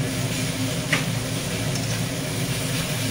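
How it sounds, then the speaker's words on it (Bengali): Fish roe fries in a small amount of oil in a pan, a dense, constant sizzle heard up close and fairly loud with no pauses. "একদম কম তেলে রান্না করতেছে মাছের ডিমটা"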